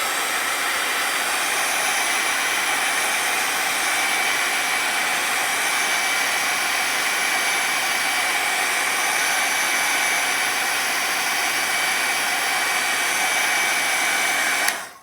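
A hair dryer blows continuously on fresh watercolor paint, a loud steady close whooshing roar with an even tone that holds for the whole stretch before cutting off abruptly at the end, with no talking.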